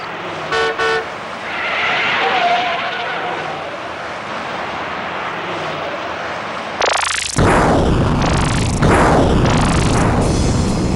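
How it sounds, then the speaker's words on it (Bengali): Serial blasts in a Bengali cartoon: after a stretch of muffled background, a sudden, very loud explosion bursts in, followed by further booming blasts that stay loud to the end. "এ নিশ্চয়ই নাশকতা। Serial blast"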